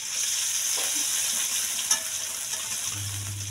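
Hot oil sizzles steadily in a pan while cooking tempe bacem, a continuous close frying hiss with a brief crackle near the middle and a low hum toward the end.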